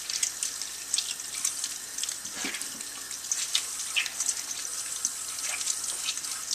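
Tap water runs steadily into a sink while whole red wheat dough is rinsed to wash out the starch and bran for gluten, a continuous close splashing with small fluctuations and no talk.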